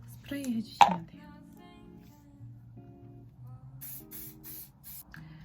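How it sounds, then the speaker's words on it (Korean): Hair spray hissing from a can onto styled hair in short repeated bursts near the end, following a sharp close spritz early on, with a faint background hum. "이제 마지막 스프레이 해주시면 돼요."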